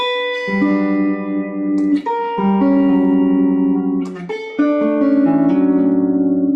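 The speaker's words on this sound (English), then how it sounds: "If I were to take a 2-5-1 progression," A guitar plays a 2-5-1 progression, three ringing chords in turn, each struck cleanly and left to sustain, with no voices.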